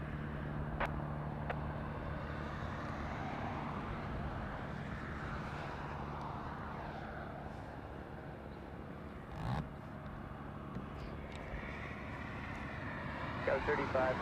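An Embraer E175 jet approaches to land at LAX, a steady distant whine and rumble of jet engines that swells slightly as it nears, with someone talking over it throughout.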